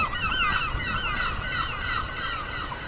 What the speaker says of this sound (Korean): 갈매기 소리가 난다